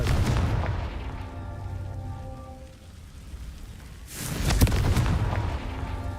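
Confringo fire spell bursting in Hogwarts Legacy, a loud crackling blast near the end, following a stretch of steady rushing game ambience with faint tones; no talk.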